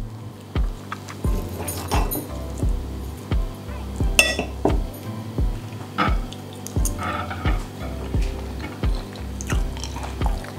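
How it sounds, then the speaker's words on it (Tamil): Cutlery works through roast lamb on a plate at a Christmas dinner: rhythmic knife strokes repeat about every half second, with occasional bright clinks of metal against the dish, close and alone. "இப்போ நாங்கள் இந்த லேமை கட் பண்ணி சாப்பிட்டு பார்க்கலாம்"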